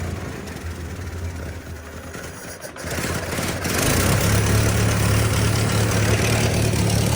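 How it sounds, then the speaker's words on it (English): A nearby Ford 801 tractor engine rattles, then catches and settles into a loud, steady low idle that hums on to the end. "You had it down there pretty low and it was sitting there idling."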